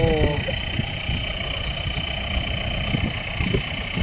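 A Kubota M7508 tractor engine held at steady revs during a field test gives a continuous droning hum with a low rumble, and someone talks over it.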